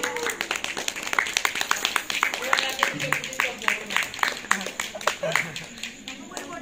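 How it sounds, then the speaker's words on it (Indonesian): Students at an Islamic boarding school quiz contest clap for group E, a crisp uneven patter of hand claps that comes and goes in bursts, with voices talking at the same time. "Tepuk tangan untuk grup E."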